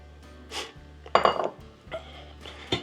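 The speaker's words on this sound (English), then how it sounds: "But then you just want to dump in your Johnny cake." Apple Johnny cake batter dumped into an oiled cast iron skillet, with a few close clinks and scrapes of utensil on pan and a soft heavy plop, no talking.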